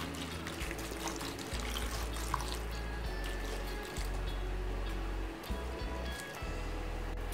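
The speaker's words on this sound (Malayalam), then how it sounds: "ഇനി ഇതിലേക്ക് നമ്മൾ 1/2 ലിറ്റർ വെള്ളം ഒഴിച്ച് കൊടുക്കുക." Half a litre of water pours into a pot of jackfruit avial, a steady close splashing and gurgling stream with brief pauses and changes in flow, heard alone without talk.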